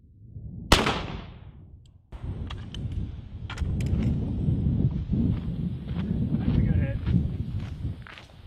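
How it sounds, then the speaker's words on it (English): A single loud rifle shot of 5.56 green tip 62 grain ammunition fired at an empty Magpul PMAG magazine, a sharp crack near the start followed by outdoor rumble and background noise. "we're shooting it with one green tip"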